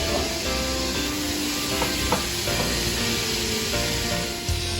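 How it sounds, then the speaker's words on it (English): Pork stew meat searing in a pot, a steady close sizzle with faint scraping and stirring sounds running underneath and no voices. "The meat started to roast nicely"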